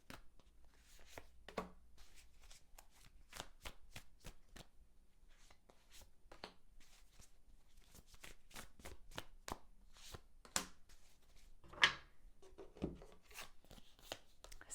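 Tarot cards are shuffled and drawn, producing rapid soft flicking and riffling snaps with a few sharper slaps, quiet and close, with no speech.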